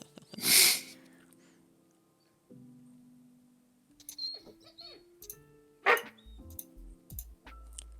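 A person imitates a dog with a single loud bark near the start, followed by faint scattered clicks and background tones.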